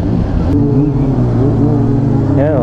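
Fuel-injected Honda CB400 Super Four motorcycle engine idling and revving steadily, loud and close, with a short rising rev near the end and no talk.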